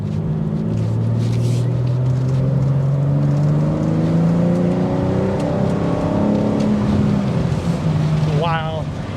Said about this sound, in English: The exhaust note definitely comes in with the top down.